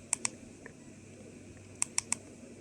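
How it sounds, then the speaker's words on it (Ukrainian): ATOM-SCAN-Light dosimeter-radiometer prototype giving sharp electronic clicks, close and quiet: two quick clicks, a faint one, then a tight burst of three near the end. "Це щелчки, клацання."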